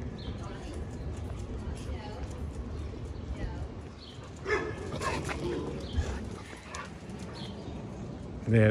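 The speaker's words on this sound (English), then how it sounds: "The dog sounds possessed." A dog barks and yelps from somewhere along a city street in East Kensington, somewhat distant and rough-toned, mixed into steady outdoor traffic and street noise while a person talks nearby.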